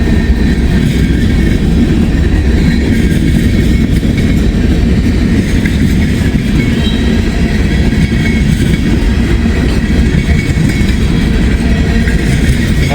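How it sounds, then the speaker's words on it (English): A long freight train, potash car among its cars, rolling past close by on a rainy day: a loud, continuous rumble with steady rail clatter throughout, no voices. "Wow, that's a long train."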